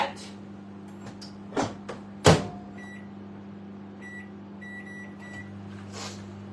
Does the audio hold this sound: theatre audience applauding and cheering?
no